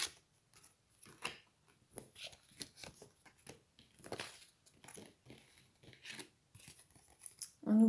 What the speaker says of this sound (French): Alors je vais reprendre des cartes supplémentaires.